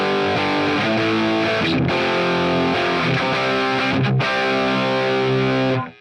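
A heavily distorted electric guitar through a NUX MG-30 Mesa Boogie Mark II preset with a C3000 condenser mic sim plays thick, sustained chords with a couple of brief gaps, loud and close, before cutting off at the end.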